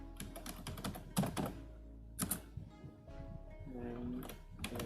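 Keys on a computer keyboard clatter in quick, scattered bursts with short pauses between them, quiet and close, while a voice talks over part of the typing.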